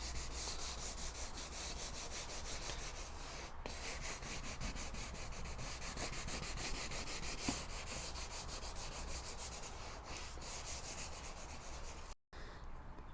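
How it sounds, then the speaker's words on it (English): Light, steady hand sanding with 600 grit sandpaper across a leather car seat side bolster, a continuous close rubbing scrape with no pauses until a brief break near the end. "just use the 600 grit to knock it down a bit and see what we need to fill"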